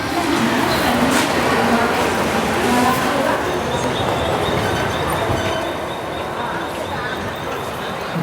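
Mumbai Hyderabad SF Express 22732 rolling along with a steady loud rumble of wheels and carriage noise from inside the coach, a faint squeal riding above, and someone talking beneath the din.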